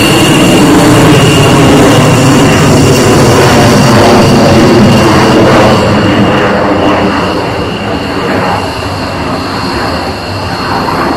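An Italian Air Force Eurofighter Typhoon performs a looping manoeuvre at the 2013 Radom air show in Poland, its jet engine a loud, continuous roar that slowly eases off toward the end.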